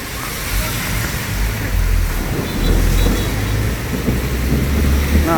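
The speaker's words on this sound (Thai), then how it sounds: "ฟ้าร้องฟ้าคำรามนะครับ" Loud low thunder rumbling under steady heavy rain at a house in Lat Phrao, Bangkok, during a severe storm with lightning, the deep roll swelling and fading across the clip.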